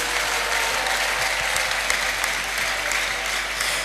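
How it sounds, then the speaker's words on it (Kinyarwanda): A church congregation claps together in dense, sustained applause that fills the hall evenly for a few seconds, with no voices standing out. "Komera Yesu wacu amashyi"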